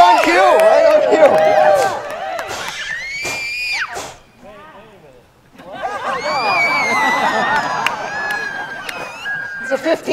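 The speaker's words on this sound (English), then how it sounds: "One wicked enthusiastic crowd." An enthusiastic vaudeville audience screams and cheers in loud bursts, dropping briefly quiet before swelling again with whoops and yells, heard from within the crowd alongside a performer's voice.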